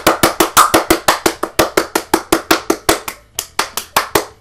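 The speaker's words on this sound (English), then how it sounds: "I just did a crazy clap, and this guy over here is just giving me a golf clap" Rapid, even hand claps from characters in the kart racer Crash Team Racing: Nitro Fueled, about two dozen sharp, loud, close claps in a steady rhythm with one brief pause near the end.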